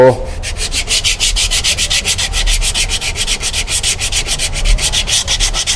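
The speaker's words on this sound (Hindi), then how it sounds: "हम वो मट्टी को हटा रहे हैं, ब्रेक पैड को नहीं घिस रहे हम लोग।" Steady, rapid rubbing strokes scrub dirt off a Suzuki Swift brake pad during a four-wheel brake service, a close, loud scratchy rasp repeating in an even rhythm for several seconds without talk.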